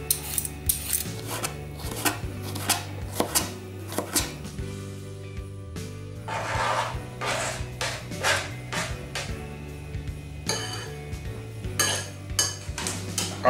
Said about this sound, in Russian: Огурчики нарезали.